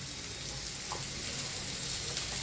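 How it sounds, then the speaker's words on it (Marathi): Leftover rice tossed with turmeric, chili powder and salt fries on a hot griddle, giving a steady soft sizzle and hiss with a few faint scraping touches throughout. "हळद तिखट मीठ टाकायचं आणि तव्यावर टाकून द्यायचा भात आपला"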